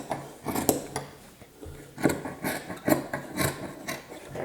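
Scissors trimming string into a feather shape, heard as a series of close, soft snips and rasping rubs in irregular bursts, quiet and without talk.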